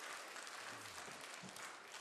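Church congregation at a Sunday worship service applauding to thank the serving elders for a donated gift, steady broad clapping filling the whole stretch at moderate level with no speech over it.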